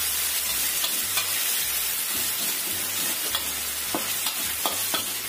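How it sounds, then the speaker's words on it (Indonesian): Ground spice paste for fried rice fries and is stirred in a hot pan, a loud continuous sizzle with repeated scraping strokes of a spatula, no voices. "Tumis bumbunya yang kita ulek tadi sampai tercium bawang."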